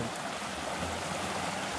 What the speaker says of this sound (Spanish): les voy a mostrar el río.